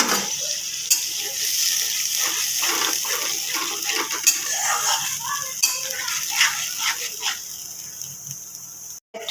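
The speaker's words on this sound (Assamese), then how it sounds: "থোৱা বিলাহী, বাদাম, পিঁয়াজ এইখিনি পেষ্ট কৰি এতিয়া তেলত দি দিয়া হৈছে" Tomato, peanut and onion paste frying in hot oil, a steady bright hiss scattered with crackles and spits, close and continuous, and a voice talks over it.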